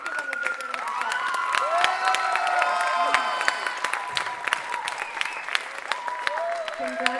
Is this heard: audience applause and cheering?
yes